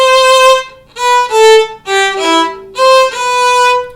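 Violin notes played slowly one at a time across string changes, each bowed tone clearly separated by a short silence where the bow stops, five or six sustained notes heard alone and close.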